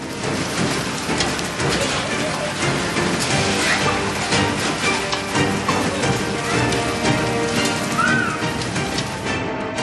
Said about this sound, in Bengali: মেঘলা আকাশ, এরই মাঝে বীরভূমের রামপুরহাটে শিলাবৃষ্টি।